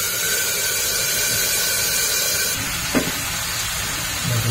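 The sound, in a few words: spice paste added to hot oil, sizzling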